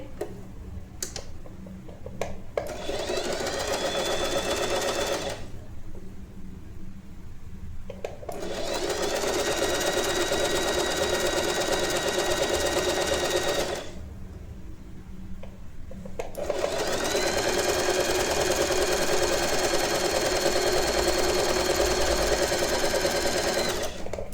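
A sewing machine stitches a royal blue lehenga saree in three long, steady runs of rapid mechanical whirring and ticking, close by, with short quiet pauses between them.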